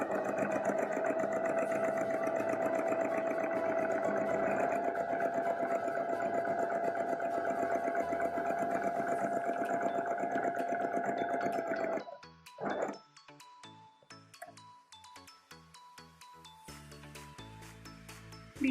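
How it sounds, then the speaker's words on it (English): A home sewing machine runs a long straight stitch through dress fabric, its motor whirring steadily and evenly for about twelve seconds before stopping, followed by a few light mechanical clicks and taps. "Select the longest straight stitch on your sewing machine"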